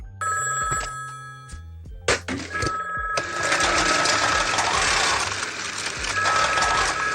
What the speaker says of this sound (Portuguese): Nesse momento, o telefone da casa toca